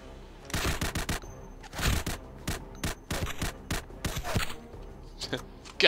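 Gunfire in a shooter video game erupts as rapid bursts of sharp shots, loud and close, with a player's voice heard around them.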